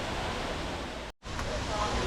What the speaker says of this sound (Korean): 조성되어 있어서 자연 폭포 같은 느낌입니다